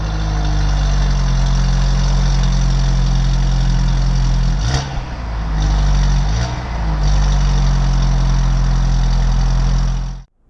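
A 2016 Volkswagen Jetta GLI with a Stage II APR tune idles steadily with a deep, loud engine hum, rising briefly in two light revs before settling and cutting off at the end.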